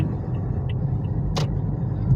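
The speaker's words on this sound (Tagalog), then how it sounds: "Dahil marami ng sasakyan." Traffic with many vehicles on a town road: a continuous low engine rumble from a nearby car, with a brief hiss of brakes or air partway through.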